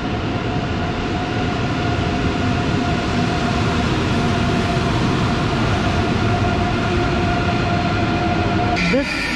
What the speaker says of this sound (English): ICE train, which is Intercity Express